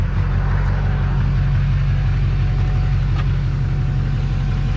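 A semi truck engine idles steadily up close after starting, a deep continuous rumble with no talking over it.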